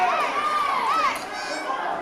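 Wrestling crowd at a Ring Wars Carolina event, a steady wash of cheering and chatter with a high whistle-like voice rising over the noise, loud and continuous throughout.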